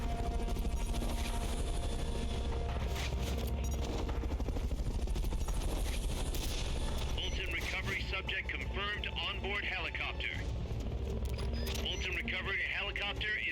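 Helicopter in the video game Metal Gear Solid Peace Walker, a steady low rotor drone sustained throughout, mixed with game effects and bursts of gunfire-like noise, with a person talking over it.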